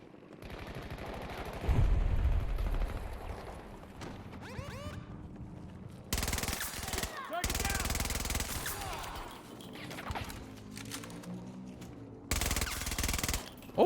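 A suppressed SMG with an extended magazine fires in the video game Battlefield 2042. Loud, dense bursts of rapid shots come in three main stretches, with quieter game noise between them.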